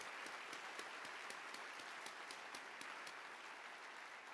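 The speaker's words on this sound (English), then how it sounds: "please join me in giving them a round of applause" Applause from a graduation ceremony audience for a bioengineering department, a steady wash of many hands clapping that holds evenly throughout, heard from a distance and fairly quiet.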